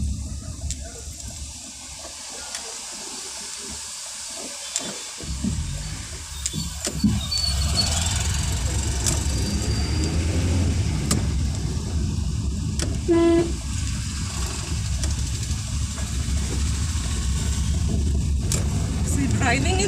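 A car drives along a road toward a temple, its engine and road rumble holding steady in the cabin throughout. Noise rises after the first few seconds, and a brief tonal horn-like toot cuts through midway.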